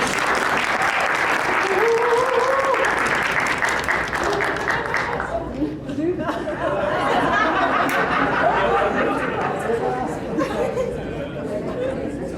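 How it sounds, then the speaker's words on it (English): At an animation launch, a crowd applauds for a long stretch, dense and loud, mixed with chatter, chuckles and a few voices talking among the clapping. "so I can give them a round of applause."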